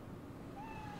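A cat in the video game Spider-Man Miles Morales gives a single short, faint meow over quiet background noise.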